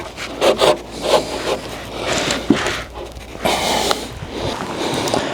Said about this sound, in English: see if we can slide this joist into place